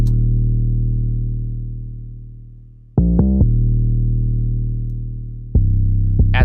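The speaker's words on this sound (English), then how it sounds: "Now the 808 by itself sounds like this." An isolated 808 bass line from a hip-hop beat, deep sustained booming notes that slowly decay, broken by quick rhythmic retriggered stabs, loud and alone with no drums.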